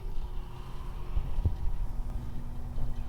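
A microwave oven in an RV gives a low, steady electrical hum that drones on continuously, with a faint throbbing underneath and a brief soft clunk partway through.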